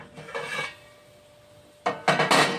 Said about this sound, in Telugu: మూత తీస్తున్నానండి